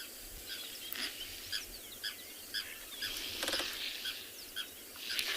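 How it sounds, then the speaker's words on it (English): A blacksmith lapwing in South African bush gives repeated sharp, metallic clinking calls at a distance over a steady outdoor hiss, with faint rustling and other soft bird sounds between them. "that's a blacksmith lapwing"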